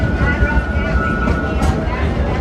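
An amusement park train ride at Six Flags Over Texas gives a steady rolling rumble with a thin sustained metallic whine running over it for the whole couple of seconds.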